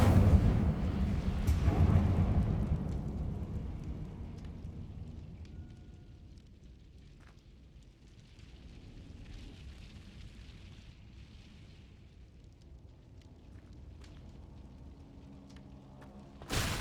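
Incendio fire spell cast in Hogwarts Legacy: a deep rumbling whoosh of flame erupts at the start, swells for a couple of seconds, then fades into a low lingering crackle and hum that ends with a sharp thump.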